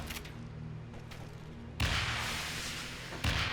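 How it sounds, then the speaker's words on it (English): Grenade blasts in the PS3 game Resident Evil: The Darkside Chronicles, two loud broadband booms with rumbling tails over a steady low game hum, the second hitting about a second and a half after the first. "I didn't mean to keep throwing grenades."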